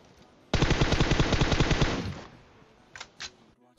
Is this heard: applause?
no